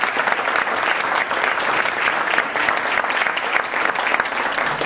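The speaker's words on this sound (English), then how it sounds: "Another round of applause for Gordon." Sustained audience applause, a dense and even wash of many hands clapping at close range.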